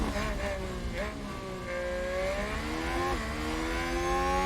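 Formula 1 cars racing in the F1 Manager 2022 video game as a Haas car makes an overtake; loud, continuous high engine whines rise and fall in pitch as the cars accelerate and shift gears.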